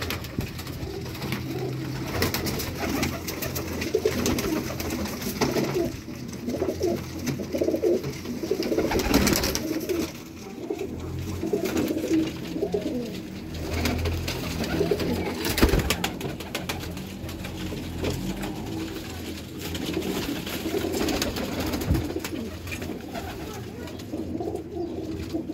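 Pigeons, including a female bird, coo steadily in a loft, their low rolling calls repeating throughout amid rustling and occasional handling noises, with faint human talk in the background.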